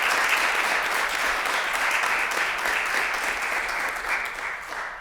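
Graduates at an EMS promotion ceremony break into sustained applause, a steady dense wash of clapping from a sizable crowd that holds fairly even throughout.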